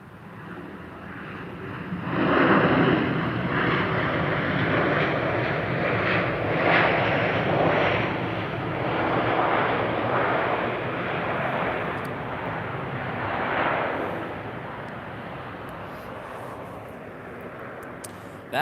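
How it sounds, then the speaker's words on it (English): A United Airlines A320 in Continental Globe livery passes at a snowy winter airport, its jet engine roar swelling from a distant hum to a loud, broad rush, then fading with wind buffeting the microphone. "Oh, here's another United. This one being a United A320."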